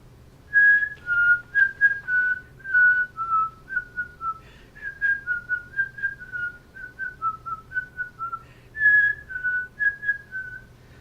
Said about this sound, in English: whistling that exact same tune